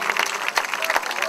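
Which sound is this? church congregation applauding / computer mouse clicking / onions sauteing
church congregation applauding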